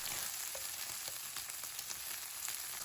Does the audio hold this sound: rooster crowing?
no